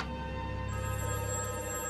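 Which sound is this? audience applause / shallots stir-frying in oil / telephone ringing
telephone ringing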